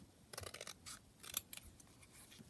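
Scissors snip through a book page to trim a large junk journal pocket along its side, a few quick, close, crisp cuts in short bursts with quiet pauses between them.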